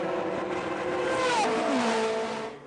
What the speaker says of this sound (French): Et la MG ici qui tente un dépassement sur l'Oreca.